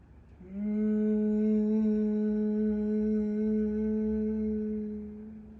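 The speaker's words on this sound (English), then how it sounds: "Exhale with Brahmari." A single steady, sustained humming exhale of Brahmari breath during prenatal yoga pranayama, a close, clear drone lasting about five seconds before fading, with no talk.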